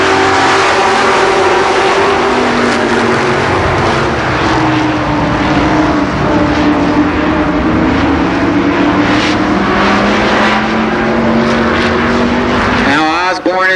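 Race cars roar around the Columbus Motor Speedway oval at a 1990 fall event, a loud, continuous engine drone with pitch rising and falling as cars pass, under an announcer's voice.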